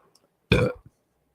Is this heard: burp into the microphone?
yes